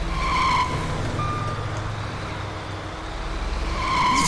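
A truck in GTA V reverses with a steady engine rumble, its reversing beeps sounding in a short rhythmic burst at the start and again at the end, with no talk.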